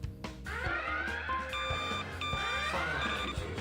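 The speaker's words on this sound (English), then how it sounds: "this thing's beeping away like that. Really too loud." Slot machine game beeping loudly in a repeating electronic melody of bright tones, close and continuous throughout, with no talk over it.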